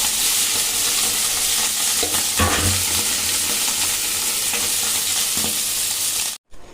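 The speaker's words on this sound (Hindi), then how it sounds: "इधर मैं आलू फ्राई कर रही हूँ।" Potatoes fry in a pan for breakfast, giving a steady loud sizzle throughout. Occasional scraping and stirring sounds come through, and the sound cuts off briefly near the end.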